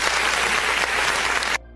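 Applause from an audience cheering opposition deputies and senators, a dense burst of clapping that holds steady and then cuts off abruptly.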